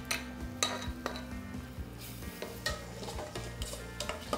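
A ladle crushing and stirring food in a cooking pan, with soft repeated scrapes and light metallic clinks over a low background of music.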